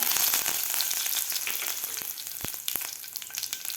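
Mustard seeds, cumin and curry leaves sizzling in hot oil in a pan, a loud, dense crackling hiss with sharp pops scattered through, close up and without talk.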